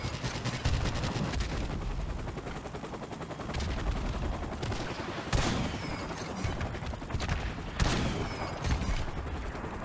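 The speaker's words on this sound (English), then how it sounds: "Start shooting rockets at it." Rocket launchers firing in a multiplayer shooter video game, continuous dense gunfire and blasts with two sharp louder bursts standing out, heavy and close, with no talking.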